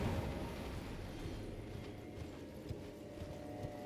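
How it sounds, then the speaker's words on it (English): In the video game Elden Ring, a horse gallops with a steady, rapid clip-clop of hooves over a continuous low rumble, fairly quiet and with no talking. "your magical horse that can double jump"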